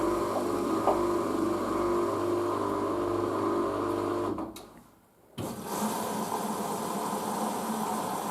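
A Hoover DYN9144D3X VisionDynamic washing machine spins at 400 RPM on a colours fabrics cycle, a steady mechanical whir and hum that winds down briefly toward silence and then starts up again.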